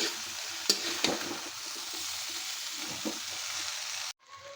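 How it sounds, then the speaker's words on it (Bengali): A potato, bean and eggplant bhaji is stirred as it fries in a pan: a soft, steady sizzle with a few sharper scrapes and taps of the spoon, ending abruptly. "এই দেখে বাজিটা নেড়ে চেড়ে আমি রাঁধবো"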